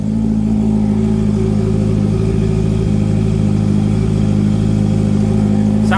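Motorcycle exhaust at a live sound-off featuring a Honda CB650R, Triumph Trident 660 and Kawasaki, a steady loud engine rumble held close and constant with a slight rising rev near the end.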